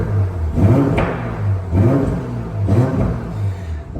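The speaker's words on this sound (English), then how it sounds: "Drop the window down, give the car a little blip" A BMW 840i M Sport coupe with an upgraded exhaust and remap gives three short throttle blips, each a rising, throaty rev that falls back to idle, heard close through an open window.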